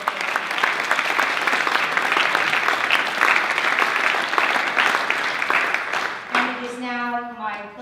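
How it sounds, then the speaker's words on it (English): A banquet-hall crowd at a teachers' association regional kickoff dinner gives a sustained round of applause, dense steady clapping that continues for several seconds before a speaker's voice returns. "Let's give them all a round of applause for what they did."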